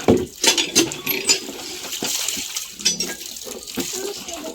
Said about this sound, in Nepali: त्यत्रो पानी होइन, थोरै थोरै पानीले पखाल।